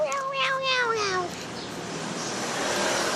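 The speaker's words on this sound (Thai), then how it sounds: "พฤติกรรมแปลกๆของน้องแมว" A cat meows several times in quick succession, close and clear, with rising and falling drawn-out cries that fade into steady quiet room noise.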